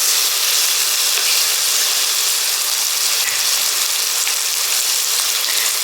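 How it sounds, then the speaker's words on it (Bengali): Goat liver pieces dropped into hot oil give off a steady, dense sizzling hiss that fills the whole stretch at an even, close level, with no voices. "তেলটা গরম হয়ে গেছে, এবারে আমি এই মেটেগুলো সব দিয়ে দিলাম।"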